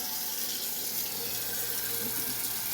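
Tap water runs steadily into a pot for pasta in a home kitchen, a continuous close hiss and splash with no talking.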